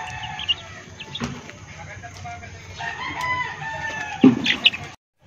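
Backyard pet chickens and chicks cluck and call up close, with a rooster crowing among them, and a short burst of louder squawks near the end. A person speaks softly in the background.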